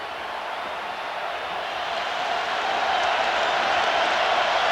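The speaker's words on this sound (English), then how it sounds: "And the crowd from Kansas State is alive again" Kansas State fans cheer in a packed football stadium at the 2004 Fiesta Bowl, a dense, continuous crowd roar that swells gradually louder with no individual voices standing out.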